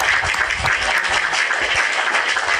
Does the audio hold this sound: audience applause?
yes